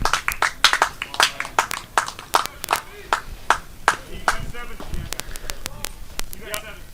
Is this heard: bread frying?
no